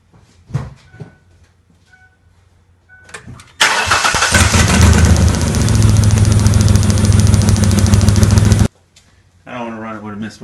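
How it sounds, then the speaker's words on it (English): A Mercury Monterey engine with a misfire cranks and runs for about five seconds, loud and close, with an uneven rough idle, then shuts off; brief talk before and after. "I don't want to run it with a misfire any longer than I have to."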